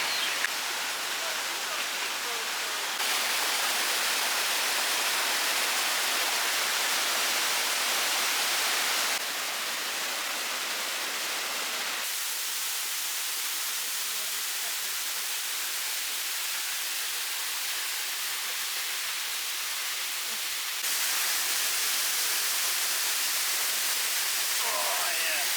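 A waterfall at Limone sul Garda on a hot day rushes as a continuous hiss that shifts in brightness and level in steps over about twenty-five seconds, as if heard from changing distances while walking.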